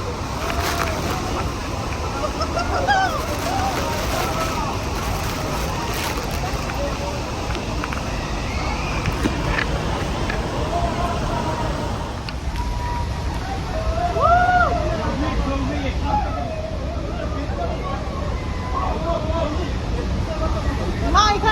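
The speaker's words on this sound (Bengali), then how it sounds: "বোট কিন্তু এখনও এগিয়ে চলেছে" Maid of the Mist tour boat pushing through water near Niagara Falls, a steady broadband rumble of engine and rushing water with wind and crowd chatter mixed in throughout.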